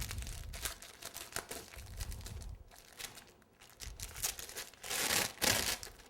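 A package of ready-made Rice Krispies being cut open, faint crinkling and rustling of plastic wrapping with a few soft snips and crackles, quiet and close.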